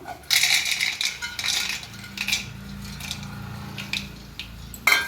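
Roasted, peeled peanuts drop into a steel mixer grinder jar in a kitchen, a run of bright, clattering rattles in several bursts with quieter gaps and a final sharp clink, with no talking.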